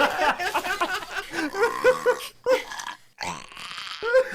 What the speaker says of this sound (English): This is what happens when you burp after snorting helium.